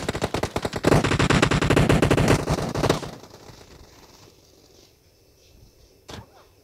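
Rapid automatic gunfire in a video game team deathmatch, loud bursts of rattling shots for about three seconds, then a quieter lull with one more short shot near the end.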